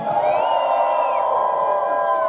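A large crowd at a union rally cheers and whoops loudly and continuously, a dense roar of voices with no single speaker standing out.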